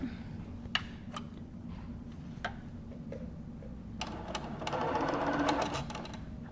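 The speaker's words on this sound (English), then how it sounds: "just make sure you're sewing with a 1/4 inch seam allowance" A quilter's sewing machine chain piecing fabric pieces, a steady close mechanical whir of fast stitching with occasional ticks, louder and busier toward the end.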